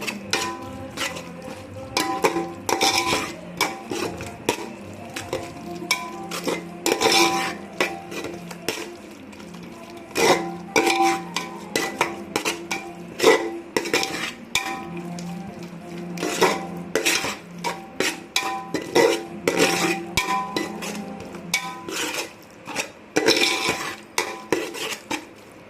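Biryani mixture being stirred and sautéed in a pot, a metal spoon repeatedly scraping and clanking against the pot in irregular bursts with a light sizzle underneath, close and fairly loud.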